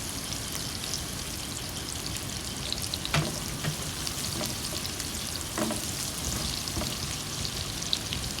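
Food fries in a pan until browned, a dense close sizzle running steadily throughout with scattered crackles and pops and occasional stirring scrapes, no voices.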